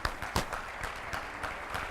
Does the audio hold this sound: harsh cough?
no